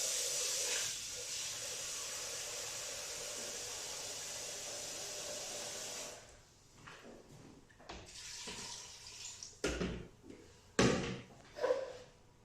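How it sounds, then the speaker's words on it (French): Water is poured into a hot pot of veal blanquette à l'ancienne, raising a loud, steady hiss and sizzle for several seconds that cuts off, followed by scattered clanks and knocks of the pot and utensils. "Nous allons rajouter un petit peu d'eau pour mouiller vraiment bien à hauteur."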